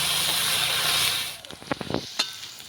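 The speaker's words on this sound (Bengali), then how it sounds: "ভিজিয়ে রাখা কিশমিশ, কাজুটা দিয়ে একটু ভেজে নেব" Soaked raisins and cashews drop into hot oil, giving a loud, steady sizzling hiss at first. It then breaks into scattered sharp crackles and pops close by.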